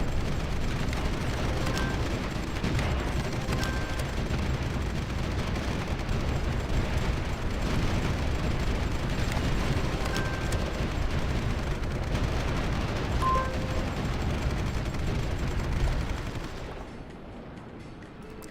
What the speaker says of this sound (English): Thermobaric missile.